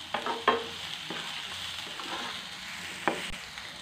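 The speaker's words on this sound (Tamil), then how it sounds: "கருவேப்பிலையும் ஆட் பண்ணி நல்லா வதக்கி விட்டுறலாம். அதோட எண்ணெயிலே நல்லா வதக்கி விட்டுறலாம்." Green chillies and curry leaves sauté in hot oil for a Chettinad poori masala, with a low sizzle broken by a few sharp stirring scrapes and clatters of the spoon, near and without speech.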